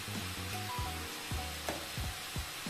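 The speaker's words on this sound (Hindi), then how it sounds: "हमारी मूली और मेथी हल्की सी भुन चुकी है" Radish and fenugreek leaves sizzle and fry in a pan, a continuous hissing crackle with soft stirring scrapes, close and steady with no talk.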